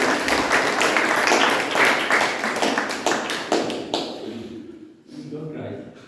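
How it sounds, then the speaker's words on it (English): An audience at a communication club meeting gives a big round of applause, dense clapping that swells, then tapers off into scattered claps as talk resumes. "Let's have a big round of applause for all the"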